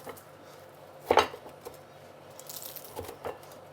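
A knife cuts through crispy fried roti canai, giving one sharp crunchy crack followed by a few fainter crisp cuts and light clatter.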